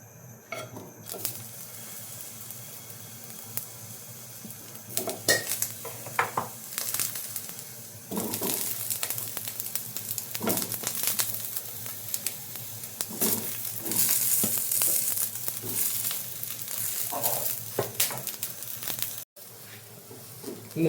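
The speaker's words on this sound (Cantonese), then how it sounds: "而家我哋稍為將啲茄子煎一煎佢。" Eggplant pieces fry briefly in a hot pan with a steady, close sizzle, punctuated by stirring scrapes and light clinks of a utensil against the pan, with no talking.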